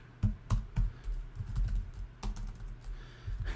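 Keys clack on a computer keyboard in short irregular bursts, a few sharper strokes standing out at the start and near the middle, close and fairly quiet with no voices.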